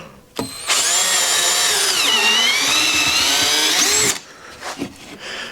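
A power drill drives screws into wood during a DIY raised-floor build on a Kawasaki Ridge crew side-by-side, one loud sustained whir of about three seconds with pitch dipping under load, then stopping, followed by light handling noise.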